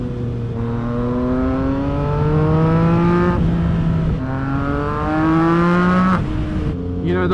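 A 2024 Yamaha MT-09 motorcycle on the move, its engine note rising through several gears in rising sweeps with brief dips at each shift, loud and close against wind rush, no talk.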